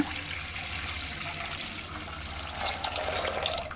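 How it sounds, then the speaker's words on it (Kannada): Water pours steadily into a metal vessel, a continuous splashing rush that grows slightly louder toward the end. "ಇವಾಗ ಇದು ಮುಳುಗೋಷ್ಟು ನೀರು ಹಾಕೊಳ್ಳೋಣ"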